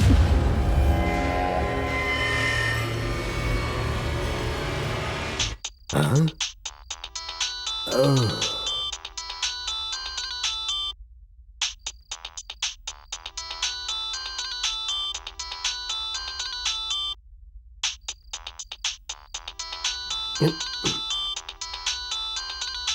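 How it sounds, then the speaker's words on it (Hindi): A melodic electronic ringtone repeats in steady bursts with short pauses, following a few seconds of loud mixed noise and brief voices. "किसका फोन बज रहा है?"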